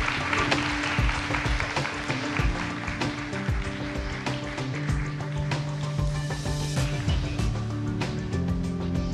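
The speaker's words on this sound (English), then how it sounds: "Please send them out with a big round of applause." Audience applause at a crypto conference in Asia, sustained clapping over loud background music with a steady beat, continuing throughout.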